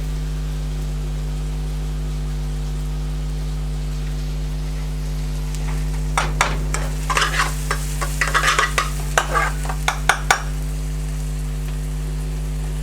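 Methi leaves frying in a pan, a steady low hum with clinks and stirring scrapes bunched in the second half, rising and falling for several seconds before quieting.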